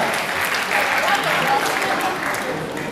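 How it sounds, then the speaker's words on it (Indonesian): Audience applause at an Indonesian motivational seminar on digital marketing, a dense steady clapping that fills the whole stretch, loud and continuous with no gaps. "Tepuk tangan buat Steve Sabar"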